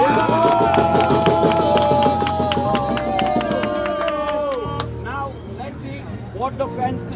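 Cricket fans from India's Bharat Army supporters' group clap and cheer at an India v Australia one-day international, a dense crowd roar with music-like chanting throughout, loud and close, with a few sharper claps near the end.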